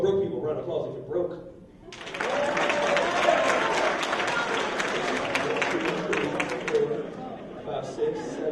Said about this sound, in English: round of applause if you're broke